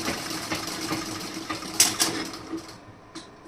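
A sewing machine runs through tailoring work on kaj patti, button patti, piping, sleeves and fitting, giving a quiet, steady mechanical whir with a few sharper clacks in its second half.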